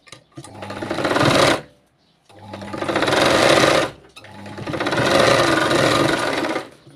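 A sewing machine stitches a katori blouse in three long, loud bursts of rapid whirring, each a second or two long, separated by short pauses.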